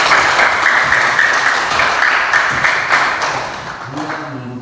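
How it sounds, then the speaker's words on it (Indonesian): A classroom of students claps for a classmate, a loud, close burst of applause that fades toward the end as a voice starts speaking. "Iya, kita tepuk tangan Nita"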